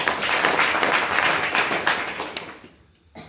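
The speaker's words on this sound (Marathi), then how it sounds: "सर्वांनी टाळ्या वाजवा" Applause from an audience at a devotional gathering: dense, continuous clapping that thins and fades near the end, followed by a brief burst of sound.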